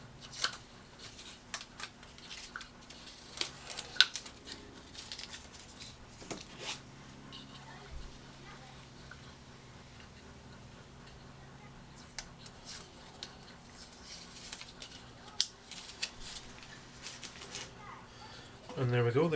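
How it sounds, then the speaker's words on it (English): Tape being peeled from freshly glued wooden puzzle boxes, a Karakuri Kakukaku Box kit, with faint scattered crackles and rips among handling noises at close range, while quiet talk runs underneath. "we'll go ahead and we'll take the tape off."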